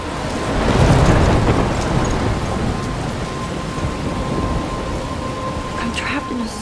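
Thunderstorm in the video game Life is Strange: a heavy roll of thunder swells in the first couple of seconds, then steady, loud rain hisses on, with faint wind.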